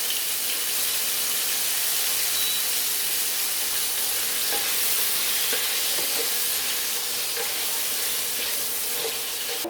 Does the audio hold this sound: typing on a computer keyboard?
no